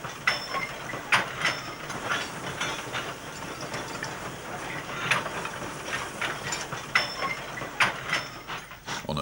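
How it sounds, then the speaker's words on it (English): National Coal Board No. 15, a 1953 Hawthorns industrial tank locomotive, hauls empty internal user wagons toward a colliery, with repeated clanks and rhythmic clatter over a steady rolling rumble. "National Coal Board Tank No. 15, a Hawthorns build dating from 1953, heads empty internal user wagons towards the colliery."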